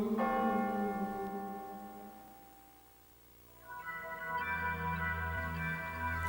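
Church bells ring out loud and sustained, their tones hanging and overlapping, fading briefly toward the middle before another round of strikes swells back in; no voices.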